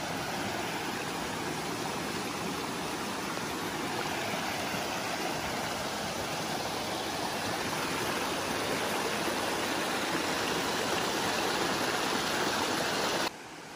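A river flowing along a hiking path at Oike Jigokudani in Kobe's Rokko area, a steady, dense rush of moving water heard close by, unbroken and without voices until it cuts off near the end.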